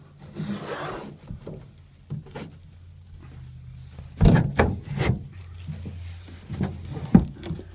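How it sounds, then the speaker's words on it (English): Sandpaper roughing up a patched rust-repair spot on a 1981 Chevrolet K10 truck before painting, quiet scratchy rubbing strokes in irregular bursts with a few louder scrapes and knocks, close by. "just rough it up just a little bit with some sandpaper"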